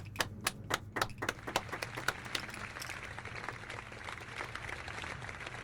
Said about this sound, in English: A big applause to them again.